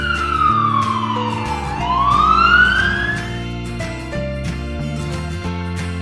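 A black toy police car plays its electronic siren, a single swooping wail that falls and then rises again, loud and near, layered over cheerful children's music.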